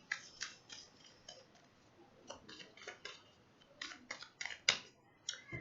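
Three tarot cards drawn from a deck during a love reading for Aries, with a run of crisp, close papery snaps and slides coming in quick irregular bursts, the sharpest near the end.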